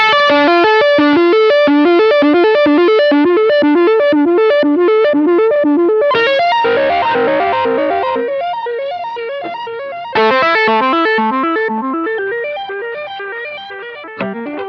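Electric guitar run through a DigiTech Whammy pedal in sequence mode, rapid repeated notes stepping through pitch-shifted patterns with a distorted, chorus-tinged tone, pausing briefly and restarting twice, loud and alone.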